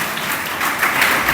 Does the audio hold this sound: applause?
yes